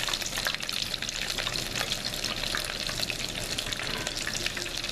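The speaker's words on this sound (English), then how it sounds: "shrimp have water in their flesh, so you may get some popping from the fat that you're cooking them in" Batter-coated shrimp frying in hot fat, a bright continuous sizzle with scattered small pops and crackles, close and moderately quiet, no talking.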